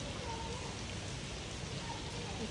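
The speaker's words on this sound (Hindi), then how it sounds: "इस तरह बारिश हो रही है" Steady rain pouring down, a dense, even hiss of drops on surfaces filling the whole moment without pauses, close and fairly loud.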